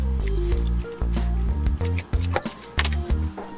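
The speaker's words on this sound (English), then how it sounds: "Stir that in there." Half and half being stirred into a pot of vegetable crab soup, giving a close wet squishing and dripping texture with a few soft knocks against the pot, over a steady low hum and no speech.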